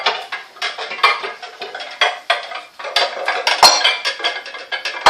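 Ceramic dishes and bowls clink and knock together in a quick, busy run of close clatters as a bowl is lifted out from among them, with a brief rattle of cutlery.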